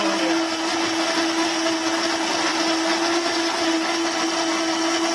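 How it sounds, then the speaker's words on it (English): A Cuisinart Hurricane Pro blender runs at full power, giving a loud, steady, continuous whir with a constant motor hum and no pauses or talking. "using this Cuisinart Hurricane Pro. This is going to make short work of it."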